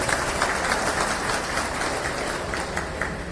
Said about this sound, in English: It's a big clap for all of them.